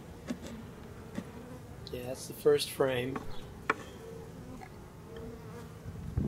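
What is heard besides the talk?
honey bees buzzing around a hive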